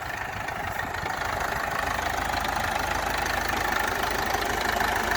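A KATA KE504 tractor engine runs steadily nearby while disking wheat stubble, a loud, constant droning rumble with a knocking undertone and no voices.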